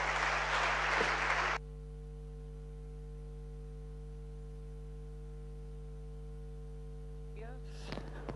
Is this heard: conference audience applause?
yes